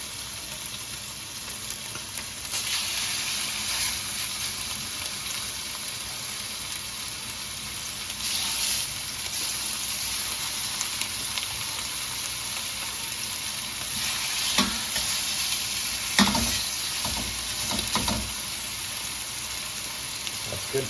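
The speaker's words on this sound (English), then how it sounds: "we want to hear a sizzle" Chicken breast sizzles steadily in a hot pan, a continuous hiss with a few brief clatters and scrapes near the end and no talking.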